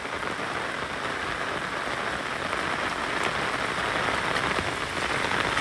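Heavy rain pours down at a graveside, a dense, loud, unbroken hiss of drops striking surfaces, steady from start to finish with no voices.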